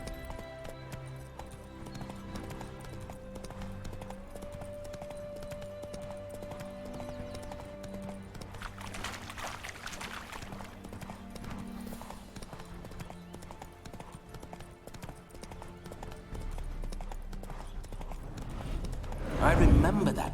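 Roach, Geralt's horse in The Witcher 3: Hearts of Stone, gallops in a steady rhythmic clip-clop of hooves throughout, mid-distance, over ambient game music, with a snort or whinny near the end and a voice speaking in places.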